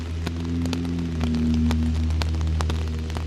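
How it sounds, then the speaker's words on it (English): Rain falling in a tapping, rhythmic beat, with sharp drops striking a surface at fairly regular intervals over a steady low hum. "What kind of rain falls like this?"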